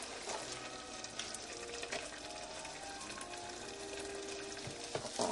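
Peanut brittle mixture, just dosed with baking soda and vanilla, is stirred in a pot, producing a soft close bubbling sizzle with faint scraping and occasional light clicks, fairly quiet and without speech.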